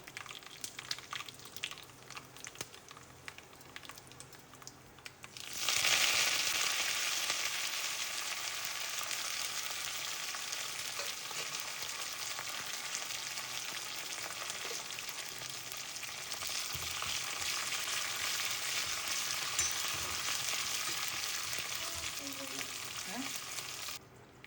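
Mustard seeds, chili and curry leaves drop into hot coconut oil for an inji puli tempering. After a quieter opening, a loud, close sizzle bursts in suddenly and then hisses on steadily with faint crackles.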